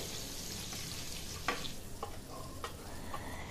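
Paneer cubes fry in melted butter in a pan over medium heat, giving a steady sizzle with a few spoon clicks and stirring sounds, no talk.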